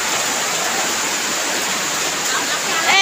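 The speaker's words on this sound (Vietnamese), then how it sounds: "Mưa lớn ghê cả nhà." Heavy rain pours steadily at night during a rural hunting outing, a dense continuous hiss of downpour that stays loud and even throughout, with no voices.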